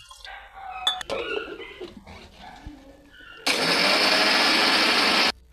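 A mixer grinder whirs loudly and steadily, grinding soaked rice with water for coconut kadubu, after a stretch of quieter kitchen clatter and handling noises.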